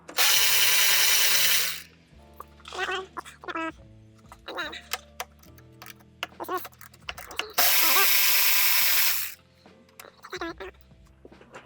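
A power tool loosens bolts on a Jeep during installation of Rough Country electric running boards, two loud sustained whirring bursts separated by a stretch of clicking, ratcheting and clanking close by.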